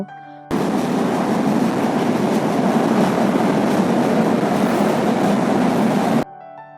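A train rumbles loudly and continuously across the all-iron New Jamuna Bridge, a dense rattling roar that starts suddenly and cuts off after about six seconds.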